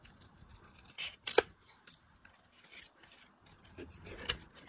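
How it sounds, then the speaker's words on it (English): Scissors trim excess paper pieces off a pop-up card, giving a few quiet close snips and paper rustles scattered across the quiet clip, with no speech. "we'll trim off the excess pieces"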